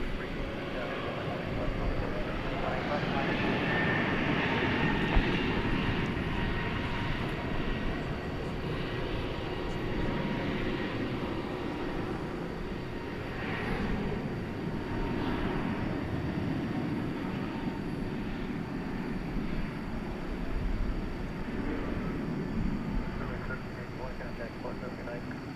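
An American Airlines Airbus A321neo roars steadily on takeoff from runway 18 left at DFW Airport at night, a loud, continuous broadband engine rumble, with voices talking over it.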